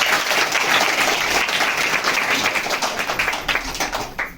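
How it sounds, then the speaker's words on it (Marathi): An audience claps loudly and steadily at a school tree-planting event, a dense close burst of applause that thins out toward the end. "त्यासाठी जोराला टाळ्या"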